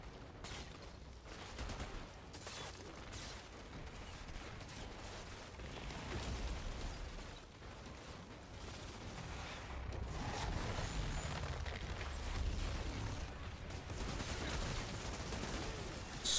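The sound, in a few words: sniper gunfire in the video game Outriders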